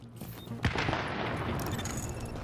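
Gunfire in The Division beta, a sharp nearby shot followed by dense rattling fusillade continuing under a steady noisy backdrop.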